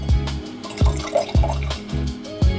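Red wine vinegar glugs from a bottle into a lentil salad dressing with Dijon mustard, giving four or five close, rhythmic gurgling pulses with nothing else over them.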